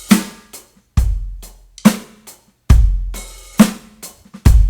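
A drum groove of kick, snare and hi-hat hits in a steady repeating pattern, with a sizzling open hi-hat ringing before the snare.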